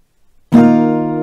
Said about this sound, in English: one round of the strumming will sound like this